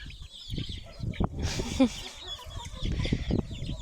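Several chickens cluck close by in short, scattered bursts, with one sharper squawk partway through.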